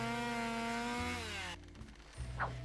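A chainsaw in the video game Harvey's New Eyes whines with a steady tonal drone that drops in pitch and cuts off, followed by a few scattered knocks and a brief rising squeal.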